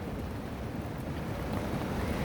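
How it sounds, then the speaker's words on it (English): Rain and gusty wind outdoors before a possible storm, a steady loud broadband rush of wind buffeting the microphone with rainfall mixed in, continuous and close for the whole stretch with no talking. "now it's actually raining and it's windy."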